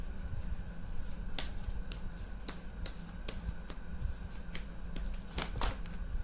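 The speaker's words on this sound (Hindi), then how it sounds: "1 सेकेंड, मैं कुछ और कार्ड्स निकाल लेती हूँ।" Tarot cards are drawn and shuffled by hand, soft papery flicks and sharp snaps at irregular intervals over a quiet room, with no talking.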